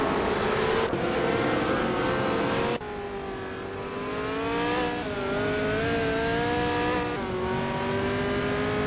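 A 1968 Lotus 70 Formula 5000 race car on a tight street circuit, its engine loud and near with rising and falling revs through several gear changes, with other racing engines droning alongside.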